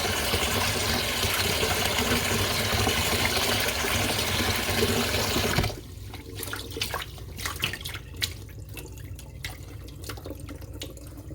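Really hot water pours noisily into a basin for wool felting, a loud steady splashing rush that cuts off abruptly partway through, leaving scattered drips and small splashes.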